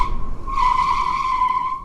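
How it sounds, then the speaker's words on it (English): Hard braking on a motorcycle with a combined brake system, the rear wheel locking and skidding: a loud, sustained tire squeal that rises and holds for nearly two seconds, close by. "that's the rear brake locking and the wheel turning on the sides again"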